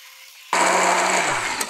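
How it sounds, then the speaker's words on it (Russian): A blender whirs into life, mixing sea buckthorn, banana and orange juice into a smoothie; a loud, steady motor roar begins abruptly after a faint hum and runs continuously, close up, with no speech. "блендерить все нашим блендером."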